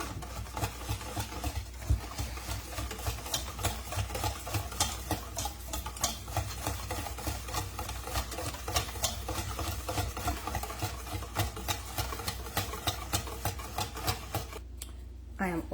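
Carrot muffin batter with eggs and about half a cup of brown sugar, stirred steadily in a bowl, producing a continuous rapid ticking and scraping rhythm throughout, with a brief pause near the end.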